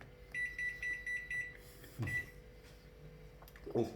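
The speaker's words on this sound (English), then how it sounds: "we go to the microwave" A microwave beeps in a quick series of five short tones, then one more beep follows, with clicks and kitchen clatter around it.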